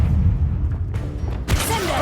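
A fire spell is cast in Hogwarts Legacy: low rumbling combat ambience gives way to a sudden whooshing burst of flame and crackling magical effects near the end, over a deep background drone.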